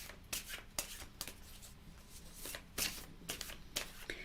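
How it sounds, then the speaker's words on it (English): Oracle cards being shuffled by hand, a run of papery riffling bursts with short pauses between them, close and fairly quiet, with no talking. "when you feel like you've shuffled them enough, then you stop."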